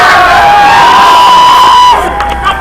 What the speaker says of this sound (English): Got a big crowd over there at Sunset